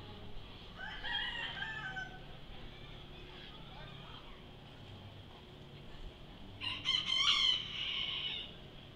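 Chickens at a county fair poultry show cluck softly, then a rooster lets out a loud clear crow near the end, with people talking quietly in the background throughout.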